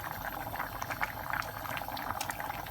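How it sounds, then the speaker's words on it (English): Moong dal lentils simmer in a pot, bubbling and popping steadily in a soft, continuous liquid burble heard close up without any voices. "now the lentils have been cooking for about 10 minutes."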